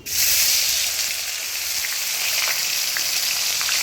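Onions dropped into hot oil with cumin in a home kitchen, a loud broad sizzle that starts abruptly and hisses steadily, close and alone without voices.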